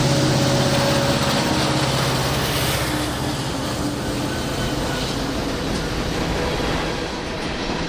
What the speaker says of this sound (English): we see an empty BNSF coal train with 4 SD70 ACEs heading through the rock cuts and over the high hills